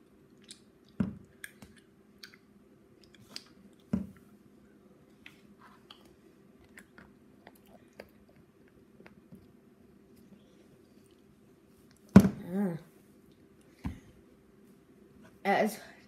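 Someone eats frozen honey jelly, with soft, sporadic wet chewing and squishy bites, a few louder ones near the end, close and quiet against a faint steady hum.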